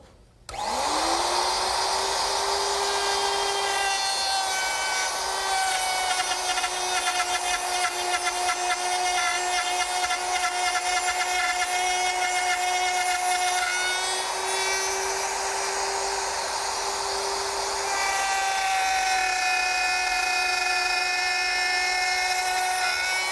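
A wood router fitted with a dovetail bit and guide collar cuts tails into a board along a template, a loud steady high whine with shifting tonal pitch held continuously and close.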